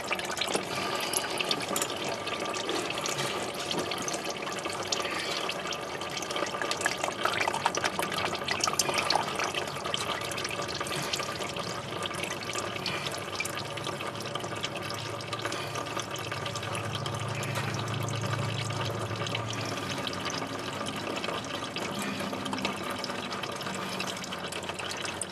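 Hot engine oil drains from a car during an oil change, a steady close trickling, pouring stream that runs unbroken throughout with faint background hum and no talk.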